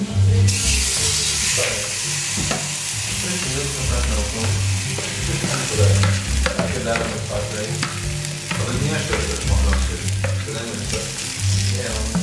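Tortilla mixture frying in a very hot, oily pan, a steady loud sizzle and crackle with occasional stirring scrapes running throughout.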